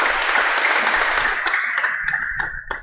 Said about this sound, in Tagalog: Kaya palakpak naman tayo, mga taga Holy Family.